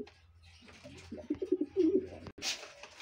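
Breeding racing pigeons give low, soft cooing calls close by in a quiet loft, a short run of throaty coos in the middle, followed by a brief flutter or rustle.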